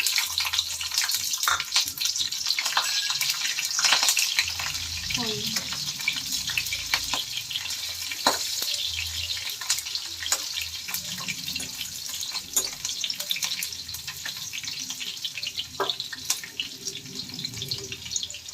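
Curry leaves and slit green chilies frying in hot oil for a Telangana-style chicken fry, a steady crackling sizzle with sharp spits and pops, close and fairly loud, carrying on alone throughout.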